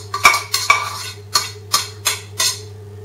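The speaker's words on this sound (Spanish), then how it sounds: "Removeremos un poquito" A spoon stirs miso soup in a pot, clinking and scraping against the sides in about seven sharp, evenly spaced strokes, close and loud with no talking.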